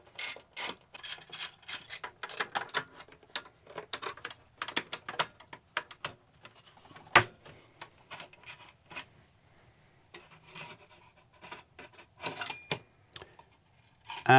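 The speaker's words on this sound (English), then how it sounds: "But first, we need to remove the screws." Screws are removed from a 2008 computer with a screwdriver, giving a run of close, light mechanical clicks and ratcheting ticks in uneven bursts with short pauses.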